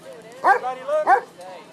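Military working dogs give two short, close yipping barks with a whining note between them, while people's voices are mixed in.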